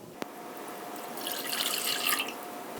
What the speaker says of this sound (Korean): 밀가루 1큰술에 물 300ml를 넣어주세요.